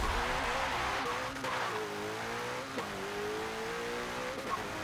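A car launches at the start of a mile race in the Forza 7 racing game, its engine revving through rising gear pulls with brief shift breaks, loud and continuous, without talking.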